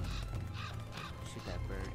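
A crow cawing in the Uncharted video game, with a few repeated calls heard over steady game background noise and someone talking.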